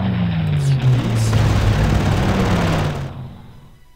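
Tank fire and explosions from the World War II strategy game Panzer Corps roll in as a loud, sustained booming barrage that fades off near the end.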